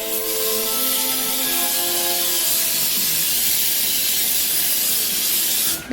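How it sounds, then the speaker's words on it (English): A steady, close hiss of cooking spray sprayed into a bowl runs unbroken for several seconds, with faint tonal hum beneath, cutting off sharply at the end. "you can use cooking spray and just spray the inside of the"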